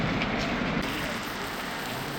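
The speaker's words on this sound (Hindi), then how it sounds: "और बारिश बहुत ज़्यादा बहुत ही गजब बारिश हो गई यार अचानक" Sudden heavy rain pouring down outdoors, a thick unbroken roar of drops hitting the ground and nearby surfaces, loud and steady from start to finish without speech.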